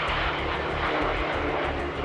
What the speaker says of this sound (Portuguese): Sua mais famosa construção é o motor de foguete do avião Messerschmitt